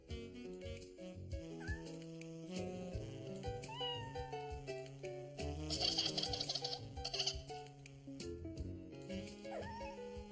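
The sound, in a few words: kitten meowing in a cartoon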